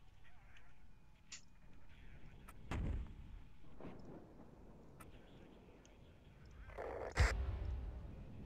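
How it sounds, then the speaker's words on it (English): BMP-2 infantry fighting vehicles firing on the move in the Cold War strategy game WARNO, giving a few distant thudding cannon shots and booms over a low battlefield rumble, with the loudest report near the end. "My BMP2s are just firing on the way."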